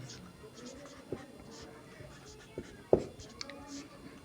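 Math equations being written by hand: faint pen scratches and a few sharp taps on the writing surface, soft and intermittent beneath a quiet room.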